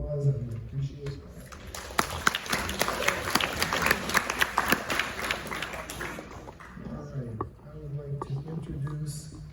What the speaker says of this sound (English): So we could give her a round of applause.